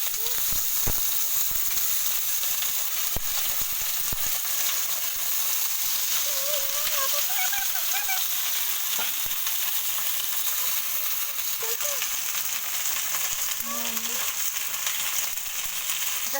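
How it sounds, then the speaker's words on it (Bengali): Vegetables sizzle steadily in mustard oil in a wok, a continuous close frying hiss running throughout, broken by a few faint scrapes and clicks. "আমি কিছুটা সরষার তেল দিয়ে দেবো ভিড়িটা ভেজে নেবো"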